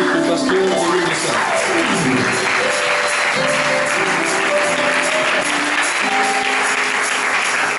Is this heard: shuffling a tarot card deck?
no